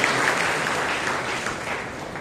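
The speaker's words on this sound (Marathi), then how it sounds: "तर टाळ्या वाजूया" A congregation clapping together at a church prayer service, a dense, even wash of many hands beating steadily for a couple of seconds, fairly close, with no speech over it.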